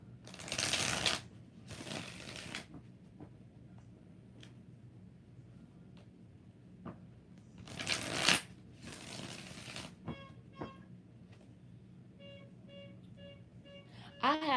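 Tarot cards are shuffled in two pairs of short, crisp riffling bursts between quiet gaps, with a few faint tones and taps toward the end.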